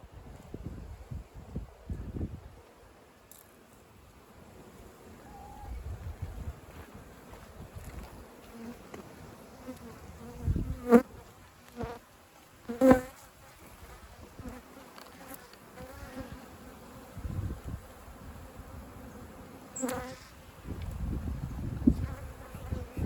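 Native honeybees buzz steadily around a concrete cylinder hive during a rescue in Manacor, Mallorca, with intermittent louder close passes and low rustling handling noise underneath.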